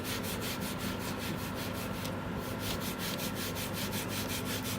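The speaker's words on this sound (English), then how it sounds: "And you're just going to scrub. You want to scrub across the grain." Teak decking scrubbed across the grain with a cleaning powder, a steady rapid back-and-forth brushing rasp, close and constant, with a brief lighter gap midway and no voices.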